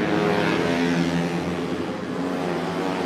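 Racing motorcycle, a Honda, accelerating on track on the final lap of a race, a loud close engine whine holding steady and rising slightly in pitch, continuous with no talk.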